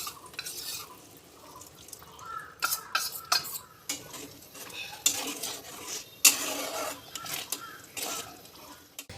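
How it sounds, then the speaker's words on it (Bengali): A spoon stirs a cornflour slurry into an egg and potato curry in a pot, making intermittent metallic clinks and scrapes against the pan with small liquid sounds, close and fairly quiet, with no talking. "এবার আমি এর মধ্যে 1 চামচ কর্নফ্লাওয়ার গুলে দিয়ে দিচ্ছি"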